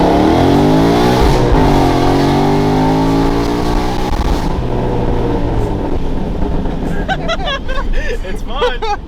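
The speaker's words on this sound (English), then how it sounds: "So we're gonna do a quick little first gear pull." A 900 wheel-horsepower car roars through a first gear pull, the engine note climbing loud and close inside the cabin before easing off, after which occupants talk over the fading rumble.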